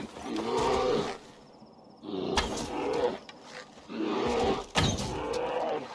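Three deep, rumbling bear roars in Assassin's Creed Valhalla, each lasting about a second, separated by short pauses, with game ambience in the gaps.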